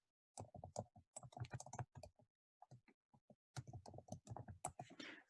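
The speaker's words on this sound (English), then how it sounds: "So you're getting real-time typing here" Rapid clicking of computer keys in bursts, with short pauses between runs of typing; close and fairly quiet, no voices.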